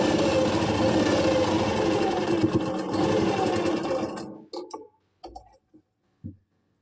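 A sewing machine runs a continuous stitch along a kameez seam for about four seconds, a close, steady mechanical whirr, then stops and gives way to a few short clicks and handling noises.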